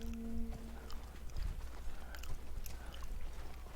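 Thudding hoofbeats of a horse galloping through a massive clan battle in a video game, a steady rapid clatter under a din of combat noise and scattered clanks.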